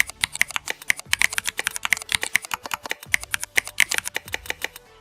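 Rapid, crisp keystrokes from a keyboard playing simulated Cherry MX Black switch sounds with PBT keycaps, clicking in quick uneven bursts with a brief pause midway, close and clear.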